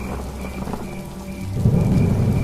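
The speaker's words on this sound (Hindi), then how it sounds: "तभी जोरदार बारिश की आवाज" Heavy rain pours steadily while a deep rumble of thunder rolls in and grows louder toward the end.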